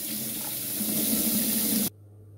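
Tap water runs steadily into a kitchen sink while meat is washed, a dense continuous splashing rush that cuts off abruptly near the end, leaving only a low hum, with no talking.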